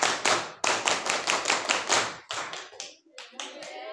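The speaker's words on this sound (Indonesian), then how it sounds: "coba saya masih bisa enggak tepuk pramuka?" Junior high students in scout uniforms perform a scout clap rhythm in a classroom: quick sharp claps in a steady burst, then a broken, syncopated pattern of fewer claps, close and loud.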